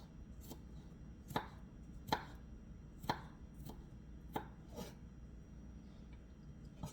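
Knife mincing garlic on a cutting board, a quiet series of sharp, evenly spaced chops, roughly eight strikes, in an otherwise calm kitchen.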